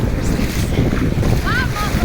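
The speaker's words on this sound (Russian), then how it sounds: "Вот, Балтийское море." Waves and wind roll along the Baltic Sea shore on an empty spit, a loud continuous wash with heavy wind buffeting the microphone throughout.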